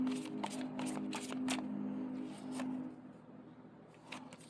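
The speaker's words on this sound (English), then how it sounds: "Let me shuffle." Tarot cards being shuffled by hand in a riffling, flicking series of crisp snaps over about four seconds, close and moderately loud, with a low steady hum beneath and no talking.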